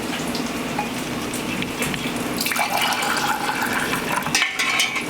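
Liquid Jell-O streams into glass mason jars with a steady splashing pour that shifts in tone partway through as the jars fill, close and continuous, with no talking.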